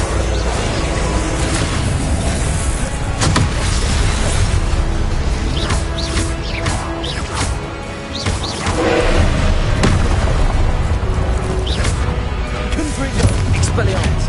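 Spell explosions and booming blasts from Confringo casting in the Hogwarts Legacy video game, dense and loud throughout, with repeated thuds and crashes layered over constant game noise and background effects.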